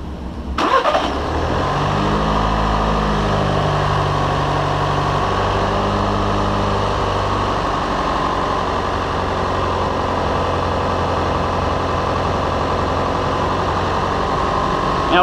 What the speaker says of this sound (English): we're going to start the engine, turn all the loads on, increase the RPMs